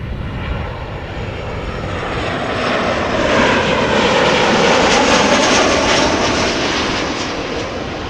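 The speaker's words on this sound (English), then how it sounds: "Meanwhile, I can hear the Royal Air Maroc 737." A Royal Air Maroc Boeing 737 jet at Amsterdam Schiphol Airport roars overhead, its engine noise swelling to a loud peak midway and then easing slightly, heard alone.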